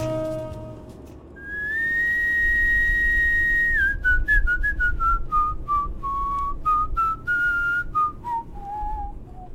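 A person whistles a melody from Rhapsody in Blue in a Twin Peaks pilot scene, starting with one long held note and then stepping down through short phrases, clear and close over a quiet low background.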